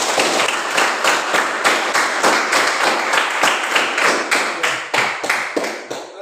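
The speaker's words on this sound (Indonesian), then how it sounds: "Kita beri tepuk tangan untuk kita semua." A class group claps together in a school religion lesson, giving sharp, evenly spaced claps in a steady rhythm at close range, loud and unaccompanied by talk.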